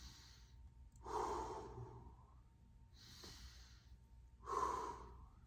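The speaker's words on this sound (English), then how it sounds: "So I want you to try to maintain an equal inhale to exhale." Slow, even breathing during a gentle stretching exercise, with soft breathy inhales and exhales alternating at a steady pace, close and fairly quiet with no talking.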